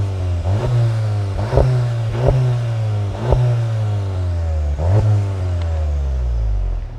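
A 2021 Volkswagen GTI's four-cylinder engine revs through chrome exhaust tips in about five sharp throttle blips, each rising over a loud, close, steady idle.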